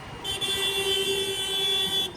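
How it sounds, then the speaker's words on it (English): A motorcycle horn gives one sustained, steady honk lasting about two seconds, fairly close, during a ride through Nagpur with traffic noise underneath. "A little honk so that the amaze knows I am approaching."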